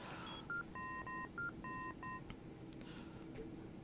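Telephone keypad tones from the Indigo Prophecy video game beep in a quick, uneven sequence of short dialing pulses, fairly quiet over a hissy background.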